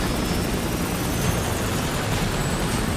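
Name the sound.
helicopter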